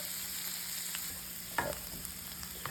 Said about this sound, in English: Get that nice and sauteed in our butter here.